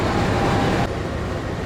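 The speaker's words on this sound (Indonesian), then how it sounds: "dari arah barat masuk kereta api Singasari dari Pasar Senen ke Blitar." The Singasari passenger train from Pasar Senen to Blitar rolls in from the west, a loud, steady rumble of wheels and cars close by, easing slightly partway through.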